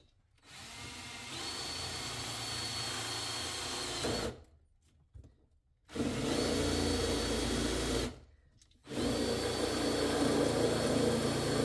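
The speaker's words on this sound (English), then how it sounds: "I'll drill some holes out" A power drill whines loudly in two long bursts with a pause between, drilling holes in metal on a Nissan Z31, then starts again, a steady high motor tone with grinding underneath.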